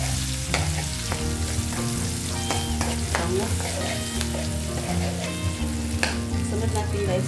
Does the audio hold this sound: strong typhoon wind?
no